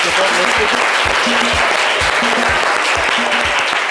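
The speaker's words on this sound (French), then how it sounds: "On peut l'applaudir." Steady applause from a crowd, dense clapping that fills the whole stretch without pause, fairly loud and close.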